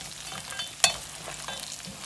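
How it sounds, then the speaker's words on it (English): Goat stew browning in a pot, a steady soft sizzle and frying crackle with one sharp scrape or clink of a stirring utensil midway, close and moderate, no talk. "I'm just stirring this every so often. It's really starting to brown now."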